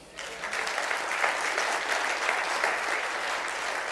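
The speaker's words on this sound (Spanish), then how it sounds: "Yo creo que Dios te merece un aplauso." Church congregation breaking into applause during a sermon, steady, full clapping that starts abruptly and holds evenly at moderate distance throughout.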